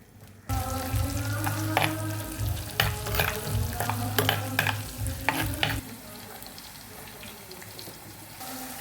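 Chopped ginger, garlic and three green chilies frying in coconut oil in a clay pot, a loud bubbling sizzle with clinks of stirring that abruptly drops to a quieter hiss.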